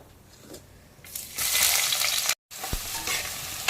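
Sliced big onions and green chillies frying with whole spices in hot oil for coconut rice, a loud steady sizzle that swells after the first second, briefly cuts out, then returns close and continuous.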